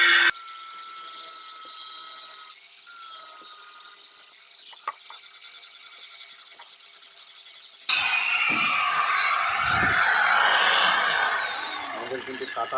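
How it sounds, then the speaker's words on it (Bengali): A grinding machine screeches steadily while cutting the excess shaft end on a ceiling fan bearing, then shifts to a rougher, harsher grind near the end. "এটার সমাধান হচ্ছে এই মাথাটা কেটে নিতে হবে, কিন্তু তার জন্যে একটা গ্রাইন্ডিং মেশিন অবশ্যই প্রয়োজন আছে।"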